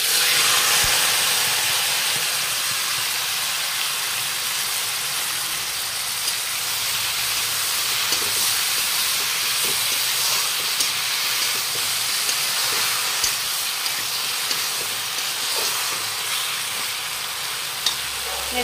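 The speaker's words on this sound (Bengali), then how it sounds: "তেলটা এখানে গরম হয়ে গেছে এবার এই মাখানি ভেন্ডিটা একবারে বসায় দেবো" Seasoned okra (bhindi) laid into hot oil, giving a steady loud hiss and sizzle that holds evenly throughout with a few small pops and no talking.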